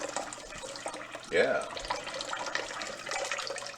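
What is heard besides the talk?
filling a pot with tap water for vermicelli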